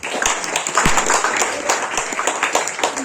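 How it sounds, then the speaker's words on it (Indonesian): Audience applause after an Islamic religious lecture, moderate scattered clapping heard fairly faintly with some background voices. "tepuk tangan dulu sebelumnya"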